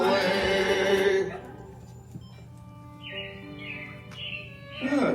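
Robins chirp in short, high bursts within the Walt Disney's Carousel of Progress animatronic show, following a loud swell of music that fades out.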